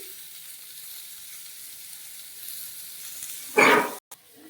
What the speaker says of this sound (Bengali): ওই জন্য বামি শাকটাও একটু ভাজা করব।